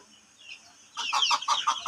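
Laying hens cluck nearby, a quiet stretch followed by a run of rapid, repeated clucks in a quick rhythm.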